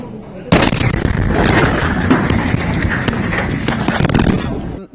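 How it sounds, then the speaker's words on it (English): Airstrike bombing explosions in Yemen during a Saudi-led attack on Houthi positions: a loud, continuous rumble of blasts and crackling bursts lasting several seconds, with faint shouting voices mixed in. "Here is a video of one of the many bombings that Saudi led against the Houthis."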